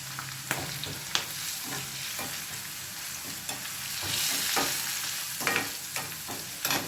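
Ginger pickle ingredients frying in a pan and stirred until golden, a continuous loud sizzle broken by repeated scraping strokes of a spoon against the pan, with no voices.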